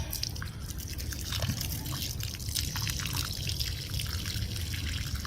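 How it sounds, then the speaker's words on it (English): Water trickling and dripping as it runs off the soil in a planted cucumber or lemon pot, a continuous close wash of small drips and splashes with no talking. "now that the water's making it run off the top"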